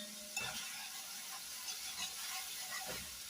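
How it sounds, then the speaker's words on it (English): Spanish food sizzles in a pan while a spoon stirs it, giving a quiet, steady frying hiss broken by a few soft scrapes, with no speech. "Let's stir that together."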